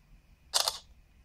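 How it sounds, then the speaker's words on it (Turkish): A single quick camera shutter click, sharp and close, sounds once as a photo is taken, set against near silence. "Hemen bir fotoğraf çekimi yapalım."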